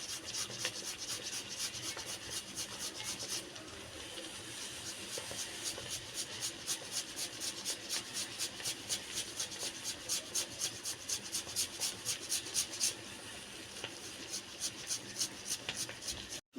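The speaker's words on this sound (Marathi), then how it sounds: "आता आपण इथे उकडलेला बटाटा जो आहे तो अशा प्रकारे खिसणीच्या साहाय्याने आपण किसून घेणार आहोत।" A boiled potato is grated on a hand grater in a home kitchen, giving steady, rapid, rhythmic rasping strokes that run close and continuous with no talk.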